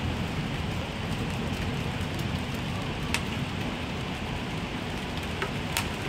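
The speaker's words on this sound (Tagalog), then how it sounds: "lumakas din ang ulan" Heavy rain pours steadily in a constant dense roar, with a few sharper drips and taps standing out now and then; no voices.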